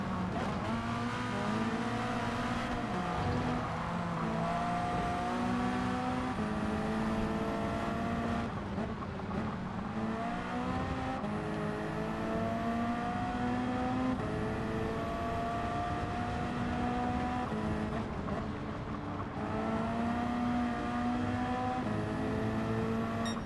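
A BMW race car in Gran Turismo 7 at Brands Hatch: a steady engine drone that climbs and drops in pitch through repeated gear shifts, with other cars' engines layered underneath, continuous and without talk.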